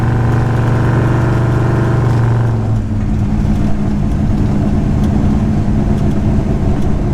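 A Ford 331 V8 engine rumbles loudly from inside a Ford Falcon on the road, first a steady harmonic drone, then shifting into a rougher roar as it drives on.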